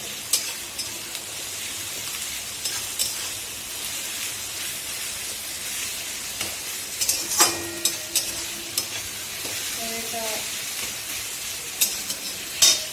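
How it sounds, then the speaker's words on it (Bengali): Onions browning with about a spoonful of sugar in a pan over a medium-high flame, sizzling steadily with stirring scrapes, a few louder clatters and sharp crackles throughout, no voices. "ফ্লেমটাকে আবার একটু মিডিয়াম হাই ফ্লেমে রেখে পেঁয়াজটা কষতে দেব"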